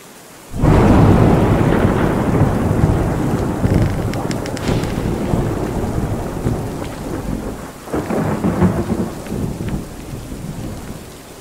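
A loud thunderstorm rolls through the game world of Lunacy: Saint Rhodes, heavy rain pouring as a deep rumble of thunder swells suddenly and lingers, followed by a second surge of rolling thunder.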